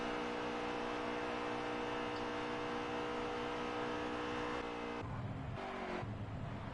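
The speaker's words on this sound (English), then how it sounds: "I hear the engine revving, but his truck is not moving." A race truck engine drones at high revs with a dense, steady roar while the truck sits stationary after a wreck at Daytona, then briefly falls and surges again near the end.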